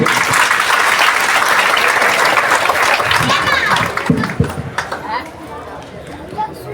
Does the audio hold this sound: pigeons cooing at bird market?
no